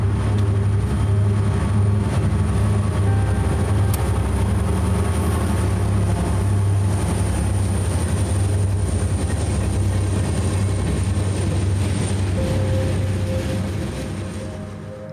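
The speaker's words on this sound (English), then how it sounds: "Power on this day was the Kingman GP39s with 3934, my least favorite K&O motor, leading" A freight train led by Kingman GP39 locomotives, lead unit 3934 on the K&O, rumbles past loud and close with a steady diesel drone and continuous wheel clatter, slowly fading at the end.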